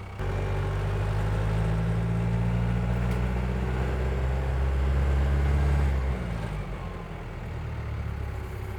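A USMC M1161 Growler with a General Motors automatic transmission drives with a steady, loud low engine rumble, easing off slightly near the end as it shifts gears.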